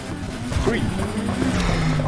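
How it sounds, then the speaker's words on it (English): A car's tires burn out in the Need for Speed Heat racing game, a steady loud engine drone with tire noise that continues throughout, while a voice talks over it. "Essa queimação de pneu da pega"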